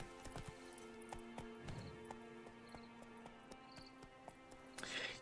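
Roach the horse galloping in The Witcher 3, with a steady run of hoof clip-clops all the way through, a short snort near the middle and a brighter rustle near the end.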